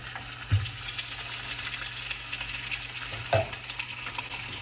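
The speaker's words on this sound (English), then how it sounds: "So I'm going to put them in here to sear." Salted oxtails, dry-brined for a day, sear in a hot pan with a steady, close sizzle and crackle; two dull thuds land as pieces are set into the fat, with no one talking.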